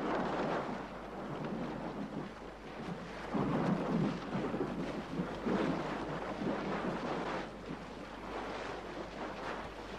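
Storm at sea with thunder: a continuous heavy roar of wind and rain with deep rolling rumbles that swell in the middle, no voices.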